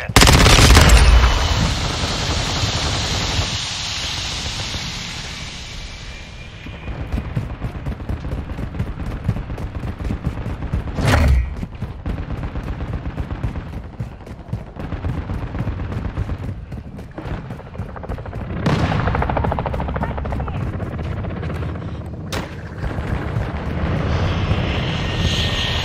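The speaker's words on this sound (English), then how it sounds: "Friendly chopper gunner servicing target." In Call of Duty MW3, a chopper gunner helicopter fires its machine gun, with loud rotor and engine drone and bursts of gunfire under sustained game noise.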